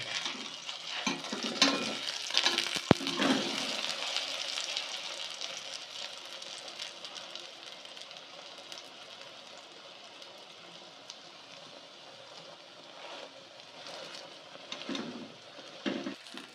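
Batter flatbread frying in hot oil in a wok gives a steady, hissing sizzle, with a brief clatter of utensil handling and flipping near the start and again near the end.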